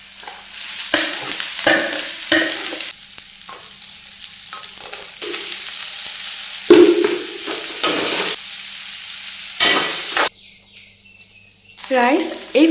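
Flower pakoras frying in oil, with bursts of sizzling and stirring broken by quieter gaps, close and fairly loud, and a little faint background chatter toward the end.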